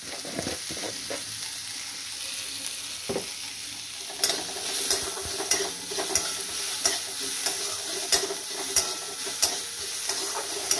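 Masala idli fries in a little oil, a steady close sizzle that swells louder after a few seconds, punctuated by regular scrapes and taps of a spoon stirring the pan; no voices.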